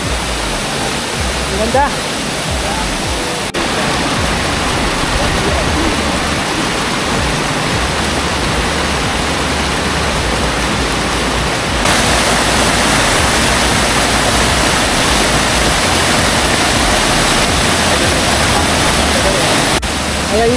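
Rushing waterfall at a campsite falls in Malico, Pangasinan, a loud steady broadband roar filling the whole scene, with brief speech over it and a slight jump in intensity partway through.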